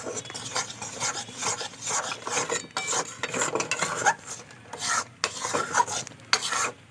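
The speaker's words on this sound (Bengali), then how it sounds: "আর আমি কিন্তু বেসনটা নাড়ছি" Gram flour being stirred in a wok for besan laddu, giving a steady dry scraping and rasping of a spatula against the pan, with repeated strokes and short pauses, fairly close and moderately loud, no voices.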